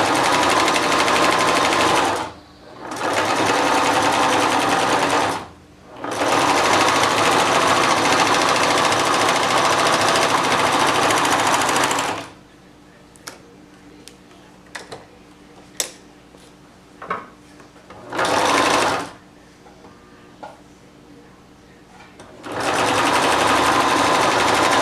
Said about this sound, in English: I'm just continuing along the opposite side, and I'm sewing on the other straps.